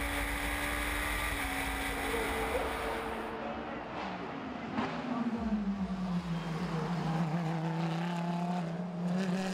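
Race cars lapping a circuit during a Top Speed endurance event, with engines roaring continuously close by and one car's pitch sweeping downward as faster cars pass through slower traffic.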